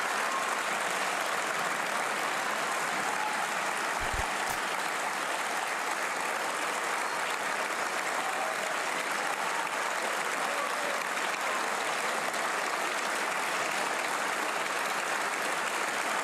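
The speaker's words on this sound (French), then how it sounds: "Tout le monde applaudit, hein." Sustained applause fills the French National Assembly, a dense, steady roar of many hands clapping in a large hall that carries on without a break and stays loud throughout.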